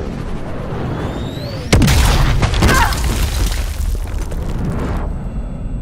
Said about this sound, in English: Shot an RPG right in front of me.